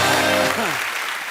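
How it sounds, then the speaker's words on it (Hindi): Loud applause from a TV comedy show studio audience fills the clip, with a voice over it early on and the clapping fading slightly toward the end. "जोरदार तालियां हो जाएगा।"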